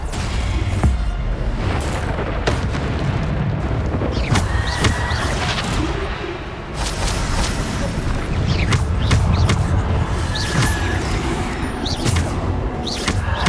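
Bombarda blasting spells go off repeatedly in Hogwarts Legacy battle, heavy booms and crashing impacts piling up over a dense, continuous wash of combat effects and magical noise.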